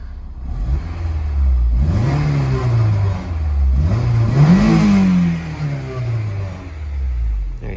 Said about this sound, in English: Let's give it a little rev so you can listen to it.